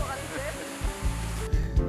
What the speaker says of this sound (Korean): 폭포가 그냥 여기도 폭포